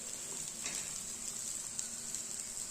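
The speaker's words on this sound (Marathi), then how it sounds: "आता आपण खालून खरपूस भाजून घेऊया." Besan pola, a gram flour pancake, roasting on a hot pan, giving a soft steady sizzle that stays even and fairly quiet throughout, with no voices.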